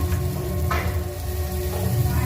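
Sandwich toasting in butter on a nonstick pan over a gas flame, giving a steady, close sizzle and frying hiss throughout with a few brief scraping touches.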